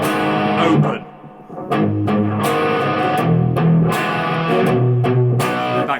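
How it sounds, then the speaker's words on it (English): A distorted electric guitar plays palm-muted chugging chords from a song's verse, with tight rhythmic hits broken by brief open notes, loud and close with no talking. "the verse is palm muted with that kind of like, you know, that emphasis on that third kind of hit"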